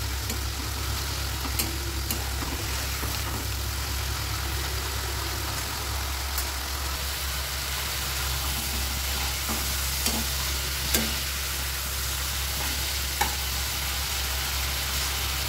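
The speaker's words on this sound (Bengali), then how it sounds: "মশলাটা যাতে ভালো মতো কষে যায়" Spice masala for a Bengali fish curry sizzles and fries steadily in a pan, a constant close hiss with occasional faint clinks of stirring, no talking.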